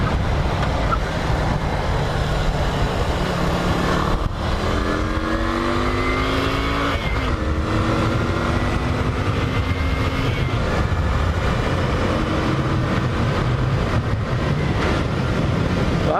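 A 2003 Yamaha XV250 Virago motorcycle engine drones steadily while commuting at around 55 mph, with a rising tone through a gear shift under constant loud wind rush.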